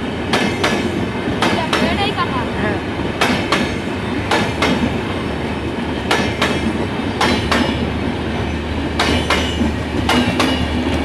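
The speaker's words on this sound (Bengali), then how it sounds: "এই আপনারা দেখলেন বন্ধন এক্সপ্রেস" The Bandhan Express, running Kolkata to Khulna, rolls past the number 3 rail gate at Ashoknagar. Loud, close rumbling is broken by a steady pattern of sharp wheel clacks over rail joints, and faint voices sit underneath.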